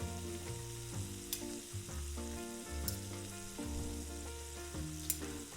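Shrimp fry in butter and oil in a skillet, giving a steady sizzle with a few sharp crackles and spatula clinks, while music plays throughout and nobody speaks.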